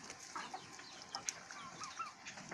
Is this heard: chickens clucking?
yes